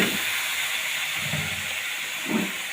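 Meat dropped into hot browned masala in a curry pan gives off a steady close sizzling hiss, with a few brief louder spits rising over it.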